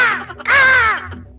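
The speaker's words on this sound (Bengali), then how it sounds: "ওটা লিচু নয় রে, ওটা কাক।" A cartoon crow lets out a loud, close caw, one short call followed by a longer drawn-out one, alone with no talk.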